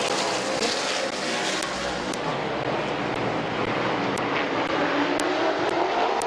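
Race cars lap Midvale Speedway in a loud, continuous engine roar, a dense, sustained rush of several cars held near throughout with no voices over it.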